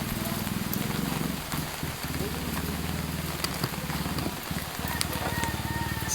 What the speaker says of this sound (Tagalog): maulan pa rin na araw